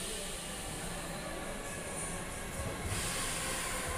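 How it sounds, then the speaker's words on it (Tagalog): A train approaches a station in Italy with a steady rushing rumble and hiss, growing slightly louder as it nears, with no talking. "Yan, parating na po ang tren."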